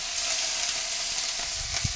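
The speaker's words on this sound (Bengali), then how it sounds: "এগুলো কিন্তু চিংড়ি মাছ দেওয়া হচ্ছে কড়াই," Shrimp fry in a hot wok, a close steady hiss and sizzle with a few soft stirring knocks near the end, no voices.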